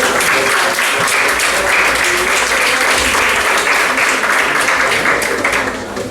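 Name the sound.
audience applause for the speaker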